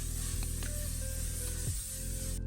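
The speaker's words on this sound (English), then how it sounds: "So we're gonna spray this just to set everything in place." Makeup setting spray is misted from a bottle in a continuous, close hiss with a few brief clicks and shifts. It sounds loud and stands alone, with no talk.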